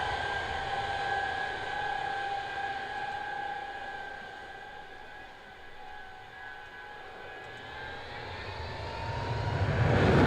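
An aircraft taking off from an airfield, a loud sustained engine roar with steady whining tones that swells and grows rumbling toward the end, with no talking.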